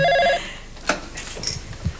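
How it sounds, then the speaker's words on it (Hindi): A newly installed telephone rings with a short electronic bell burst right at the start, then stops, leaving quiet room sounds and faint shuffling. "मुबारक हो, पहली टेलीफोन कॉल आ भी गई, उठाइए"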